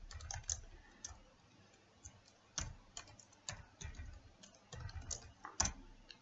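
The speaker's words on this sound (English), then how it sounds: "I'm typing hillshade." Quiet, irregular clicking of keys on a computer keyboard, close by, in short bursts with small pauses between strokes.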